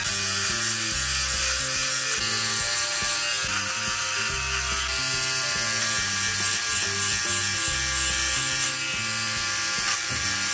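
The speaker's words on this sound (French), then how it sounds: "Maintenant, je vais utiliser le One Blade pour voir la différence." A One Blade electric trimmer shaving a beard, a steady buzzing motor hum with rhythmic pitch shifts as the blade moves through the hair, close and continuous.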